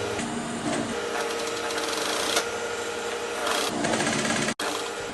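A sewing machine runs a French seam on a pocket with a steady, close mechanical whir, slowing briefly near the middle and cutting out sharply just before the end.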